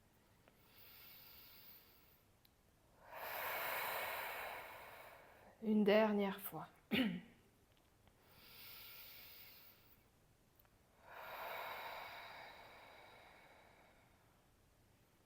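Forceful exhalations during a guided relaxation exercise, long breathy outward blows recurring every few seconds, near and clear, with a calm voice speaking briefly in between.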